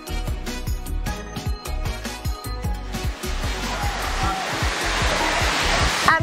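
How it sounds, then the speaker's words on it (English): Carmel Falls, Grenada's highest waterfall, drops over 70 feet in two falls into pools below. A steady broadband roar of falling water swells into the foreground after a rhythmic musical passage and stays loud and continuous to the end. "the highest waterfall in Grenada. It consists of two falls and cascades over 70 feet into the pools below"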